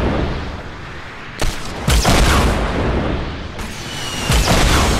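RPG rockets explode during a Fortnite squads match: several loud, booming blasts burst out at uneven intervals over a continuous rumbling background of battle noise.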